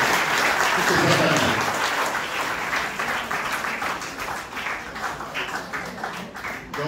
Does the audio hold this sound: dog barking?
no